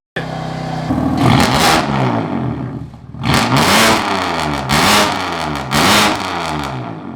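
Loud, raspy revs from a BMW F80 M3 exhaust: one long held rev, a brief drop, then three repeated throttle blips rising and falling in quick succession.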